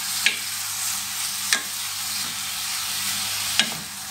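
Filling ingredients, black pepper among them, are stirred and fried in a pan, giving a steady sizzle broken by three sharp scrapes or clinks of the utensil spread through the clip.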